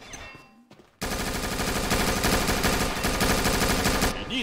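Rapid automatic MAC-10 fire from the video game Combat Arms, a dense sustained burst starting abruptly after a short quiet lead-in and running loud and continuous for about three seconds before cutting off.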